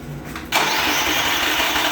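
A Murray riding mower that had trouble starting cranks briefly, then its small engine catches and runs at a loud, steady idle close by, with no talking.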